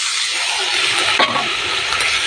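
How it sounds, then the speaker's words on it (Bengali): Water poured onto frying spice paste in a pan sets off a loud, steady hiss and sizzle, with a brief stirring scrape partway through and no talking. "এবারে জল দিয়ে দেবো।"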